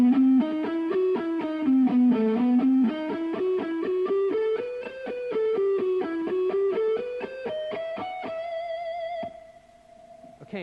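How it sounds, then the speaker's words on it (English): Distorted electric guitar slowly plays an ascending harmonic minor note sequence, each picked note distinct in a steady rhythm, then settles onto a sustained final note that fades out; no voices. "what I'm doing is playing in a harmonic minor, ascending"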